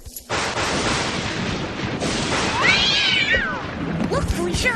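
A cartoon scene of cats and dogs raining from the sky: meows and yowling rise over a busy, loud clatter of crashes and booms, with characters talking throughout.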